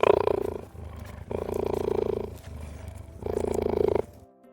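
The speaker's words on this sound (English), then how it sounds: "Here's a cheetah." A cheetah giving repeated loud, rough roaring calls, three long growling bursts close up with short gaps between them, ending abruptly.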